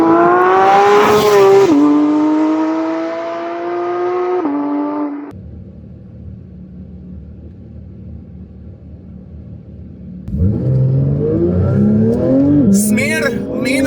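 A Porsche GT3 Touring switched into track mode roars loudly as it accelerates, its engine note climbing through gears with a brief drop to a low idle-like rumble before surging again, with talk over parts.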